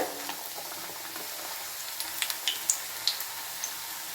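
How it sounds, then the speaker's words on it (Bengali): Battered flat bean (sheem) slices drop into hot oil and fry with a steady sizzle, broken by brief sharper crackles and pops as the batter sets. "এক্সট্রা ব্যাটারটা এইভাবে ঝরিয়ে তেলে দিয়ে দিলাম"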